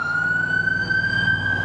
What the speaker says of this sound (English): Oh, there's a fire truck.